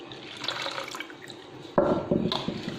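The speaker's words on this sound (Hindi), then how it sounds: "तो अब इसमें दूध डालेंगे।" Milk pours into sugar-sweetened mango pulp for a street-style mango milkshake, a short, close liquid splash that swells suddenly after a quieter start.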